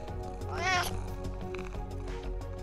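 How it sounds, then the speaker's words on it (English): A cat meows once loudly and close, a rising, wavering cry over a steady background hum. "Who is meowing?"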